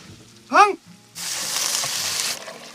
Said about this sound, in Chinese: 辣椒，干辣椒，火了火了火了，出呛鼻子的香味